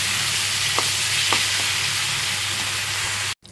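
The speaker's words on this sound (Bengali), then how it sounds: "আর এদিকে একটু পালং শাক বানাচ্ছি" Spinach cooking in a pan in a home kitchen, giving a continuous close sizzle with a few faint clicks of stirring before it cuts off near the end.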